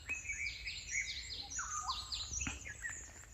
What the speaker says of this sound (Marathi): आणि हा पक्ष्यांचा आवाज,